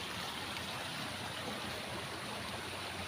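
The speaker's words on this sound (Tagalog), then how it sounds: "lakas ng tubig talaga" Loud, steady rushing of fast-flowing floodwater from Tropical Storm Enteng, a continuous broadband roar close by with no pauses.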